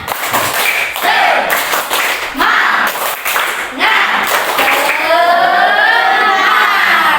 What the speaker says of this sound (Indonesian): Kalau masih semangat, tepuk semangat dulu dong